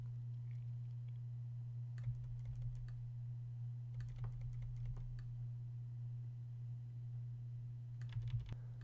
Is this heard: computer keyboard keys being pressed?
yes